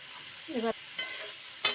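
Jackfruit seeds fry in a pan with salt and turmeric while a spatula scrapes through them in a few brief, separate strokes over a faint, low sizzle.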